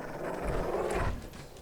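Dogmeat, the dog companion in Fallout 4, gives a low, rough growl lasting under two seconds. It rumbles steadily, fairly close and loud, against the game's background noise.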